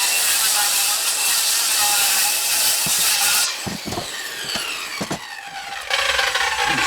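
Saw blade slicing a strip of tile guided along a fence, a loud continuous hissing whine that lasts several seconds, then drops off into clattering and tapping as the cut finishes and the blade runs on.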